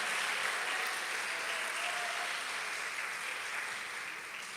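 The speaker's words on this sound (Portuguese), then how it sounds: "Vamos dar uma salva de palmas para um Deus desse que segue você." A church congregation applauds, a broad steady wash of many hands clapping that continues evenly and slowly fades toward the end, heard at a distance.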